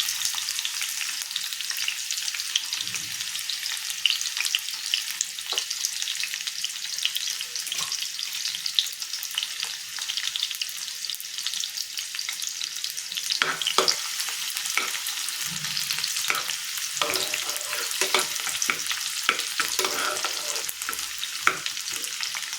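Chopped onion frying in a pan of hot oil for a Marathi vegetable dish, a steady loud sizzle throughout with occasional stirring scrapes and clinks, no voices.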